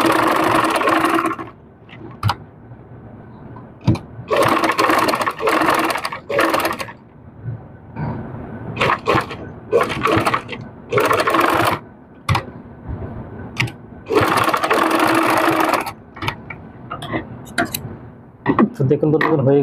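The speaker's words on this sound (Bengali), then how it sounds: "এরকম ভাবে সম্পূর্ণ জুড়ে একটা সেলাই দিয়ে নেব।" A sewing machine stitches around a dress neckline in bursts of rapid mechanical whirring and clatter, stopping and starting several times. Someone talks during the pauses and over parts of the stitching.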